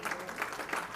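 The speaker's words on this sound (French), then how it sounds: "il y a beaucoup d'applaudissements" A conference audience claps at an opening plenary session, a brief dense patter of applause that stays steady and fairly close throughout.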